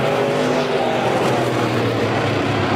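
A Thumper Division race car coming off turn four at 81 Speedway roars loudly and close, a continuous engine blare that holds steady through the whole moment.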